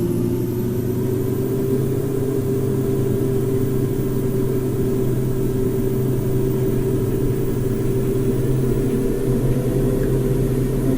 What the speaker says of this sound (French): il va falloir mettre plein gaz rapidement, c'est-à-dire à peu près maintenant